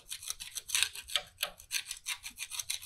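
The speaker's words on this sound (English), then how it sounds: "I'm going to gently use a metal scraper and scrape some of this" A metal scraper scrapes rust buildup off a cold cut miter saw in repeated short rasping strokes, close and fairly quiet, with no talking.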